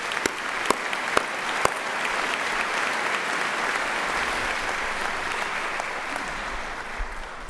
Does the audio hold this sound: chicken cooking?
no